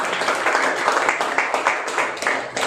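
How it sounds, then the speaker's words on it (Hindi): A church congregation claps together during a Resurrection Sunday evening service, a steady, fairly loud wash of many hands with rhythmic pulses, continuing without pause for a few seconds. "और क्यों ना हम जोरदार तालियां दें परमेश्वर के लिए।"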